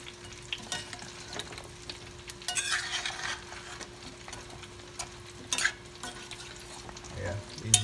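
Chicken wings sizzling in lemon pepper sauce while a utensil stirs and scrapes them around the pan, with scattered clinks and scrapes over a low, steady fry heard up close, no voices.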